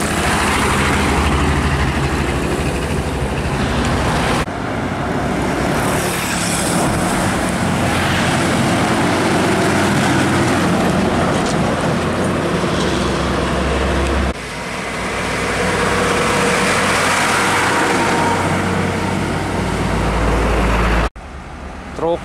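An old Hino Ranger truck engine runs with a loud, continuous rumbling roar, steady throughout with a couple of abrupt shifts in tone and a brief break near the end.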